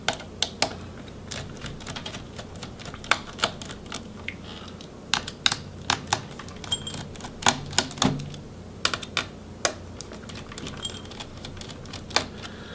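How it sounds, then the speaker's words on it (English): Screws being removed from the motherboard and hinges of an Asus Q504U laptop during disassembly, heard as a steady series of close, sharp little clicks and taps from the screwdriver and parts, with no talking. "Now we can finish by removing the other screws on the motherboard and the hinge screws."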